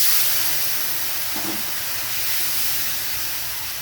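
Turmeric and chili powder hit hot oil already crackling with black cumin seeds, giving a steady, close, broad sizzling hiss that holds at an even level throughout with no talk.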